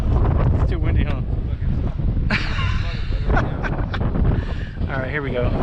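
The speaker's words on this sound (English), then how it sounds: "It's too windy," Strong wind gusts roar across the microphone on a windy night, a loud, continuous rushing blast under excited voices talking and shouting throughout.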